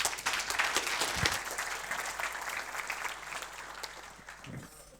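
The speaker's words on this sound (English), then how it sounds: "Give him a round of applause." A conference audience gives a steady round of applause, many hands clapping in a dense, moderately quiet wash that gradually tapers off.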